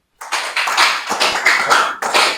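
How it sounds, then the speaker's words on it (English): A room of listeners at a kids' leadership panel discussion claps for a teen speaker, dense bursts of hand claps starting abruptly and continuing loud and close with brief dips. "Let's clap for her."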